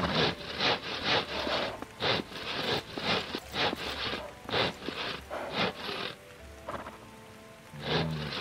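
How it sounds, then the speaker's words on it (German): Two women sawing wood in the video game Life is Feudal: steady rhythmic saw strokes rasp back and forth in quick repeated bursts with brief pauses, close and clear, no talking. "Da sägen zwei Frauen."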